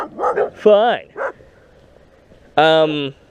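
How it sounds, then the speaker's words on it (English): Dogs bark and yip near a Japanese elementary school, two clipped yaps and then a long, loud, harmonic bark. Someone talks briefly between them. "They're harmless. They're fine doggies. Good dogs. Good watchdogs."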